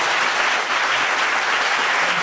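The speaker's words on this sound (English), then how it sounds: "One more round of applause." Audience at a live history forum in Gettysburg applauding steadily, a dense, even wash of clapping that holds throughout without pause.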